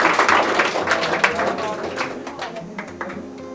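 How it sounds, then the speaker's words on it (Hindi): Audience applause welcoming participants at a school cultural programme and talent award ceremony, a steady patter of many hands clapping that fades gradually over a few seconds, with a voice or hum mixed faintly underneath. "एक जोरदार तालियों से इनको स्वागत किया जाए"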